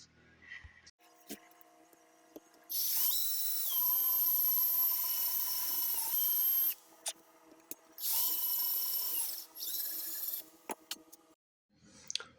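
A power drill bores a hole in a metal heater core bracket for a 1967-72 Chevy/GMC pickup, giving two long, loud, high whining runs with a short gap between them, framed by small clicks and handling noises.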